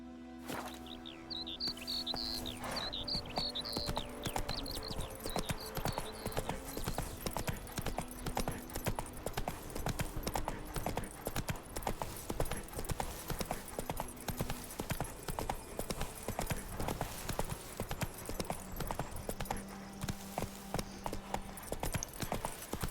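Roach, Geralt's horse in The Witcher 3, gallops with fast, even clip-clopping hoofbeats that continue throughout, while birds chirp and tweet in the background.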